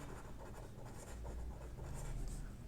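Writing numbers on a board during a class 6 maths lesson, a steady close scratching of strokes, quiet, with no talking over it.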